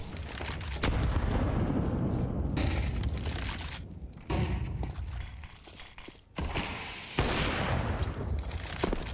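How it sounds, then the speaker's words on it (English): Grenade blast in Counter-Strike during a BLAST Premier pro match, heard as dense booming gunfire-like bursts with sharp thuds and brief dropouts between loud impacts, no talk over it. "Mezzi's nade, though, will finish the job."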